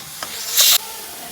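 Ginger garlic paste frying in coconut oil gives a brief burst of hissing sizzle over a low steady crackle, close and fairly loud, with one short flare near the middle.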